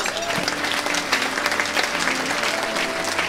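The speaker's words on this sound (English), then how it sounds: "let's give our semi-finalists and nominees a big round of applause." Audience clapping for semi-finalists and nominees at the Queensland Community Achievement Awards, a dense, steady round of applause from a large hall crowd, close and continuous.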